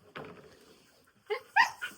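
A farm dog near piglets gives a short whimpering yip, then after a pause a few sharp, high barks and yelps close by, with no talk over them.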